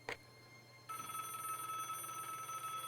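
A telephone rings in the Broken Sword point-and-click adventure game: a brief faint tone at the start, then a steady electronic ringing tone that holds on, moderately loud, with no talk.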